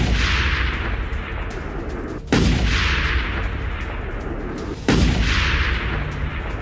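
Three heavy blasts from an Israeli air strike on a residential area of north Gaza, targeting tunnels, land a few seconds apart, each a sudden loud boom that rolls into a long, sustained rumble.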